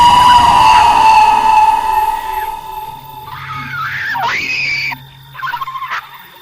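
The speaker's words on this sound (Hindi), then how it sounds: "फिर एक जोरदार चीखने की आवाज़" A loud, piercing scream echoes through a room, sustained and wavering, then breaking into shorter shrieks with a brief pause near the end.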